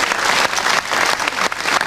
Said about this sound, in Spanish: este lindo aplauso es para vos todito